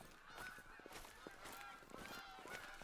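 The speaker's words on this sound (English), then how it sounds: "Freaking geese. Gonna be loud as hell." A flock of geese in The Hunter Call of the Wild keeps up loud, overlapping honks, a busy, continuous chorus with no voices over it.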